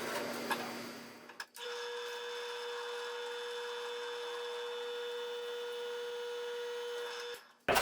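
Power drill boring holes into a telescope's factory mount to fit a dovetail bar on a Celestron 8i Special Edition, a steady whining motor tone running for about six seconds after a brief rattle, then stopping abruptly.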